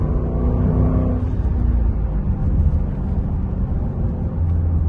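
A 2021 Dodge Durango R/T V8 engine running at half throttle, a steady loud low rumble with a droning hum that shifts slightly in pitch as the SUV drives along.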